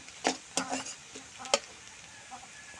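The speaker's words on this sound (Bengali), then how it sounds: "ভিতরে এই পেঁয়াজ কুচি দিয়ে দিচ্ছি" Chopped onion tips into a pan of frying vegetables in a village kitchen, giving short scrapes of a spoon and a faint sizzle in a few quick bursts.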